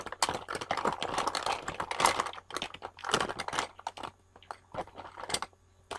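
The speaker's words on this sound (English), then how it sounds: "if you're wondering what that wonderful noise was that you just had to undergo, that was my makeup bag" Rummaging through a makeup bag, close busy clicks, rattles and crinkles of small cases and packaging in irregular bursts with brief pauses.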